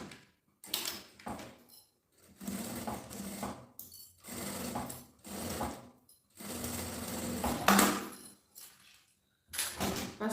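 Sewing machine stitching across the nylon zipper tape of a gym bag, running in several close bursts of fast mechanical clatter separated by short pauses, loud and near with no talking.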